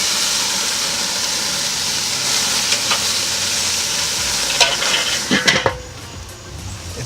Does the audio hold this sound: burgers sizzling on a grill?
yes